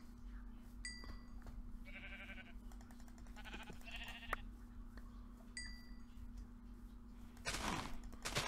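Sheep bleating in Minecraft, several short bleats scattered across the stretch over a steady low hum, with clicks and a louder burst of noise near the end.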